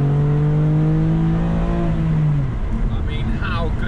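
A BMW M2 Competition's exhaust drones at light 20% throttle in second gear, a steady low engine note rising in pitch from inside the car, with someone talking over it.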